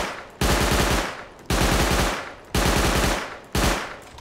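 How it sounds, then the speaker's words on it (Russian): Four loud bursts of automatic assault rifle fire from the video game Rust, each a rapid rattling volley about a second long separated by short decaying pauses, close and alone. "И теперь постреляем, мне самому интересно"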